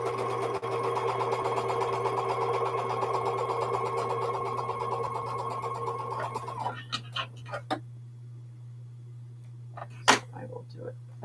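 A sewing machine runs steadily as it stitches quilt pieces for a cotton mystery quilt, a continuous motor hum lasting about seven seconds before stopping, followed by a few faint handling clicks and taps.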